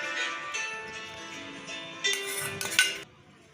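A spoon stirs raw mango pickle with hot tempering in a bowl, giving a steady close scraping with a few sharper metal clinks toward the end, and no talking.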